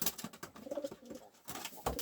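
Pigeons in a loft coo in a low, uneven murmur, swelling and fading in short bursts, with a few brighter rustles between them and no talk.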